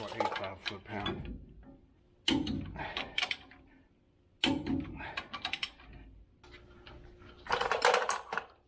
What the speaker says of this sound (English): I'll torque them up to 80 pounds.